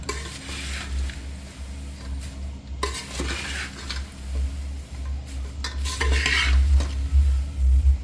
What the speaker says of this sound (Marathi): आणि आता हे मिक्स करते आणि गॅसवर 2-4 मिनिटं ठेवावं लागतं.